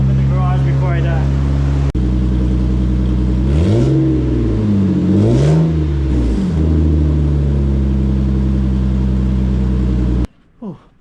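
A Lexus GS300 with a newly installed upgraded exhaust idles with a deep, loud rumble, then revs sharply twice in quick swells before settling, ending abruptly near the close.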